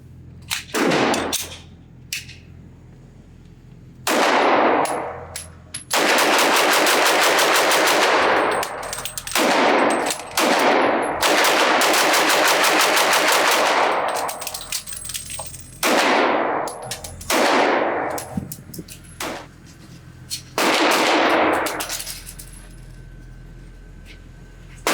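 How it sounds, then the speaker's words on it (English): Rapid pistol fire from an HK USP Compact in .357 SIG at a shooting range: loud, sharp reports in quick bursts, broken by a pause for a magazine change before another fast string of shots. "Let me see how fast I can shoot this gun, drop the magazine, get it back in action"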